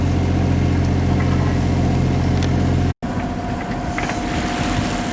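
A sailboat's engine drones steadily at idle while motoring overnight along the Portuguese coast, a continuous low mechanical hum with a brief cut partway through before the running resumes.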